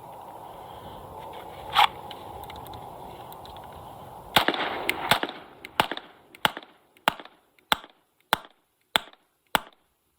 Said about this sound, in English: All right, Paul, 10 rounds on you, bud.